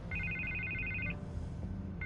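A telephone rings in Batman: The Telltale Series, two electronic trills in a row with a pause between, fairly quiet over a low background hum, no talk during the rings.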